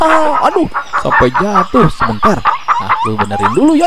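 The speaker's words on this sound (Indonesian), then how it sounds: "ternyata ini adalah suara ayam teman-teman" A chicken clucks in a rapid, close series of bright, bouncing calls while someone talks over it.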